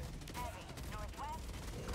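Gunfire in the game Helldivers 2 cracks out in quick bursts of shots with whining ricochet-like tones, fairly loud against a busy battle background, while players talk.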